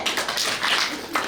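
A group in a Brahma Kumaris class in Birgunj, Nepal, clapping hands together, a dense continuous patter of claps lasting the whole short moment, fairly loud and close with no talking.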